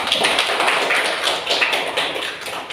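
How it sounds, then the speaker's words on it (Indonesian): Applause in a classroom for two student groups: a short burst of many hands clapping quickly and unevenly, fairly loud and close, with no talk over it. "Jadi kita kasih aplaus dulu untuk kedua kelompok."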